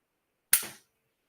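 A single sharp click sounds as the trigger is pulled on an unloaded firearm with no magazine, one short dry-fire snap in otherwise silent surroundings.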